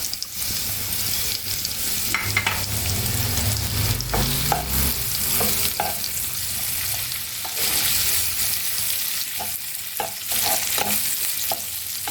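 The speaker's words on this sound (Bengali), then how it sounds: "এর মধ্যে আমি একটা ছোটো সাইজের পেঁয়াজ কেটে দিয়ে দিচ্ছি, কুচনো করা পেঁয়াজ" Chopped onion fries in hot oil for a prawn curry with a loud, dense, continuous sizzle close up. Frequent stirring scrapes and light utensil taps run through the whole stretch, and no voices are heard.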